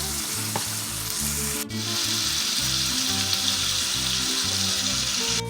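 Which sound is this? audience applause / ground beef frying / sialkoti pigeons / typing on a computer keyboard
ground beef frying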